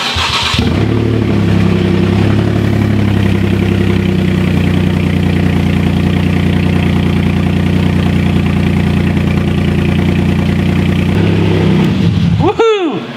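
Rebuilt engine of a wrecked Porsche Cayman starts and runs loudly and steadily for most of the stretch, a strong continuous rumble close by, then cuts off near the end with a brief chirp.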